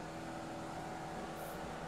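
A Formula Vee race car engine in the iRacing video game holds steady revs just below 5,000 while waiting for the race start, a constant droning hum with no talk over it.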